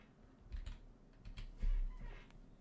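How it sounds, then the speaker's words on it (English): Typing on a computer keyboard, soft scattered keystrokes in short bursts, fairly faint and close, with no talking. "If I can type it properly."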